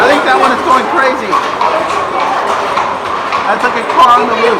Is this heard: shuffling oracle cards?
no